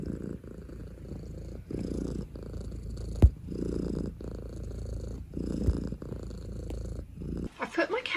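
A low, steady cat purr rumbles close by in long rhythmic cycles, with a couple of brief clicks and a faint rustle near the end.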